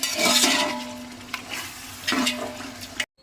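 Spices stirred into hot oil for a pulao tempering with turmeric: loud close sizzling with two scraping stirring passes, then a sudden cut to silence at the end.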